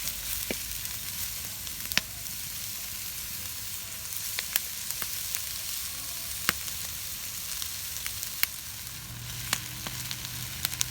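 Chopped onions sweat in a pan for goulash, a steady close-up sizzle running throughout with scattered sharp clicks and scrapes from stirring, and no voices.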